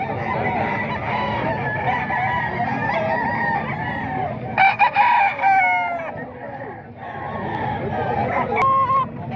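Roosters offered for sale crow and cluck together at close range in a busy cluster of overlapping calls, with one louder crowing burst standing out midway.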